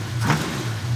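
Chevrolet Camaro with a 400 cubic inch engine and a header leak, running with a steady mid-pitched engine drone and a brief rev, close and alone.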